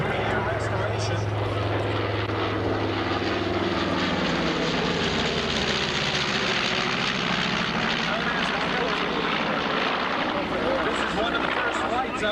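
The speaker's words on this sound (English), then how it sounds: "now this particular B-25 underwent a 3-year restoration" A restored B-25 bomber's engines rumble at an air show with a loud, continuous propeller drone that slowly shifts in pitch as it passes.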